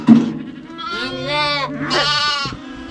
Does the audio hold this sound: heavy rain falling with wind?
no